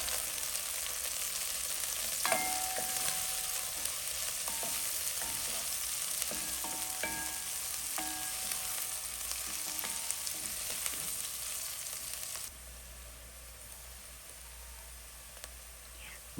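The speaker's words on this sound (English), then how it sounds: "Let it stir fry for some minutes and then we go in again." Red, yellow and green capsicum stir-frying in a pan, a steady close sizzle with scattered clicks and scrapes of stirring, the frying hiss dropping lower and quieter for the last few seconds.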